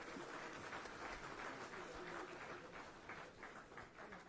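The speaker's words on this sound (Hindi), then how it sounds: "जोरदार तालियां।" Audience applause at a government ceremony in Lucknow led by the Chief Minister, a steady wash of clapping from a crowd that holds evenly for a few seconds.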